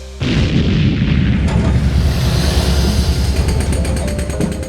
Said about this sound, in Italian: Il silenzio fu rotto dal rumore delle esplosioni per scavare i tunnel.